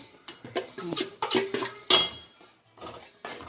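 Ground coconut is tapped off a utensil into a cooking pan for chicken kulambu, a quick series of close metallic clinks and scrapes in irregular bursts.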